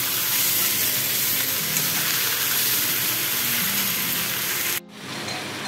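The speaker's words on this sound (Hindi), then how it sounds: "इसको भी हम 2 मिनट भून लेंगे," Jackfruit pieces frying with masala in a pan for a dry sabzi, a dense, loud, continuous sizzle close up with faint stirring, cutting off sharply near the end before a softer hiss resumes.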